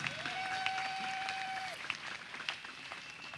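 Applause from a church congregation, a brief patter of clapping that stays fairly faint throughout, with a held electronic tone sounding early on.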